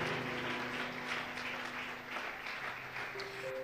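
A church congregation applauds and cheers in steady, continuous clapping from many hands, with a sustained musical tone underneath throughout.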